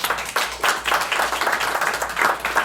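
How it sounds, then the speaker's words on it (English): Audience applause at a comedy show with Jay Larson and Eddie Pepitone, a steady wash of many hands clapping, loud and even throughout with slight swells. "A round of applause if you've had a good time."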